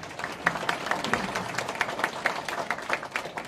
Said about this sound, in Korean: 일단 박수로 환영해